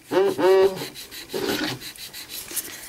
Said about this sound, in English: I'm going to go in the direction of the finish filing technique by CND, starting with the reverse, moving to forward